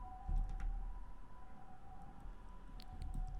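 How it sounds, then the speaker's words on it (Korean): A fire truck siren wails faintly in the distance with a steady two-tone pitch, heard through a quiet room over low rumbling noise. "지금 소방차 지나고 있죠?"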